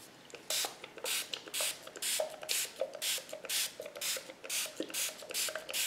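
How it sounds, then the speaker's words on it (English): A spray bottle mists water onto a gouache paint palette in a steady run of about a dozen short, close hissing squirts with small clicks of the trigger, and no voices. "I'm going to spray them anyway"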